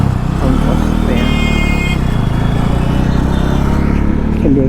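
A motorcycle pulls away from a red light in dense Delhi traffic, its engine loud and close with steady revving, while other vehicles rumble and a horn sounds in the background.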